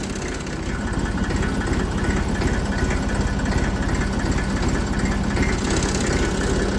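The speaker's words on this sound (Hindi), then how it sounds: "ये टाइट करने पड़ेंगे नहीं तो इसकी आवाज़ सुनने लायक है ट्रैक्टर की" A small Massey tractor engine runs steadily with loose, rattling parts, giving a low, even chugging throb that continues without pause and with no talk over it.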